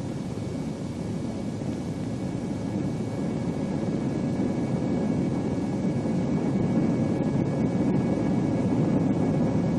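A Boeing B-47 Stratojet bomber comes in to land, its jet engines a steady broadband roar that holds constant and fairly loud throughout, with no voices.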